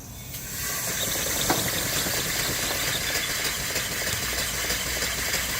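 A small vertical steam engine with a flyball governor, about 30 inches tall on a wooden base and rolling cart, runs on steam with a continuous hiss and fast mechanical rattle, steady and fairly close, without speech.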